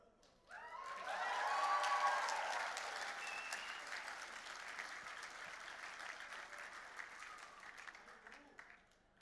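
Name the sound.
graduation ceremony audience clapping and cheering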